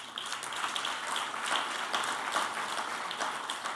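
An audience claps at a launch event, a dense, steady patter of many hands heard at a moderate distance that holds for the whole few seconds.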